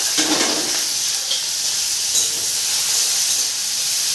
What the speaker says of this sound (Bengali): তেলটা কিন্তু আমার গরম হয়ে গেছে এর মধ্যে দিয়ে দেবো আদা কোচানো রসুন কোচানো কাঁচা লঙ্কা পেঁয়াজ আর টমেটো